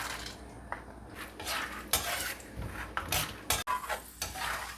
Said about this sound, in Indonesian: Pakai minyak bekas udang. Nggak punya minyak ya. Goreng kacang ya.